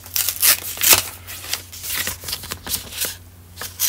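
Postcards handled close up, with quick papery shuffles, taps and crinkles in irregular bursts, heard alone without talking.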